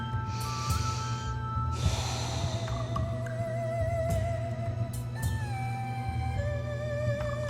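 A slow, breathy exhale during a calm yoga stretch, with two soft rushes of air over steady, gentle background music.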